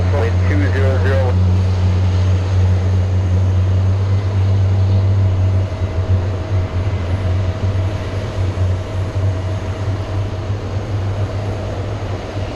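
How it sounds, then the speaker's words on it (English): Aircraft engines at JFK airport drone loudly with a deep steady hum that eases slightly partway through, a close and continuous rumble with no talk over it. "Great sound. I didn't want to interrupt the engines, you guys."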